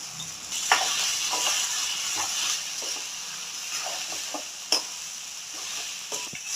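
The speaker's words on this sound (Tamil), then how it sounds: "இந்தளவு நல்லா கத்திரிக்காய் எண்ணெயிலே வதக்கிடணும்." Brinjal (eggplant) frying in oil with spices, a steady sizzle with soft stirring scrapes and occasional sharp clacks of a spoon against the pan.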